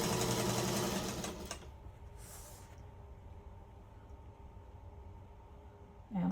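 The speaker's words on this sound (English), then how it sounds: "I'm just sewing from corner to corner" Sewing machine stitching a quilt block from corner to corner, a dense steady whir for about a second and a half, then fading into a quiet hum of the idle motor with a brief hiss, close by.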